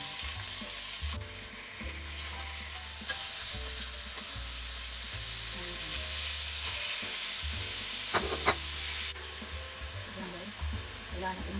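Pork sizzles in hot oil in a home kitchen pan. A steady loud frying hiss runs throughout, with stirring clatter and brief scraping knocks now and then and no talk.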